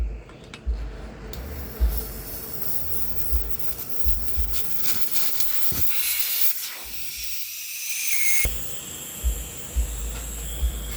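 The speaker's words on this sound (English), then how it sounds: "You're going to remove the valve core stem." Air hissing out of a Toyota Matrix tire after the valve core is removed, a steady breathy rush with scattered knocks and handling noises, loud and close.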